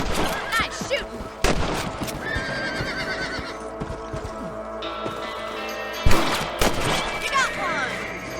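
Rifle shots aimed at rabbits in the video game Red Dead Redemption, two sharp cracks several seconds apart over horses snorting and whinnying, hooves clopping and outdoor ambience.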